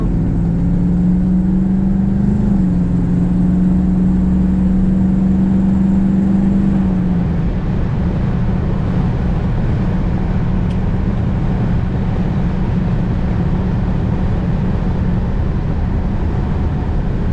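A 1981 Chevrolet Corvette Coupe with an automatic transmission, its engine a steady low rumble while driving, with a tonal whine early on that fades, heard loud and close without talk.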